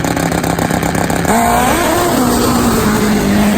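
Pro Mod drag racing motorcycle running a single stage of nitrous, a loud, harsh engine note close by that rises in pitch as it revs, with a steady roar throughout.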